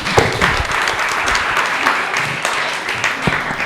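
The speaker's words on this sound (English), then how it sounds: "let's give a huge round of applause to the men in our lives also" An audience at an indoor talk session breaks into a full, steady round of applause, dense overlapping claps holding at an even loudness for the whole stretch.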